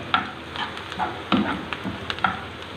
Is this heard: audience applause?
no